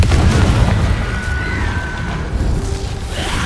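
A Confringo spell explosion from Hogwarts Legacy gives a loud, dense rumbling boom with a thin whistling streak through the blast, sustained for a few seconds.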